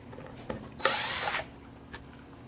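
Power driver with Torx bits backing screws out while changing a motor mount, one short whirring burst with a couple of faint clicks around it, close but quiet.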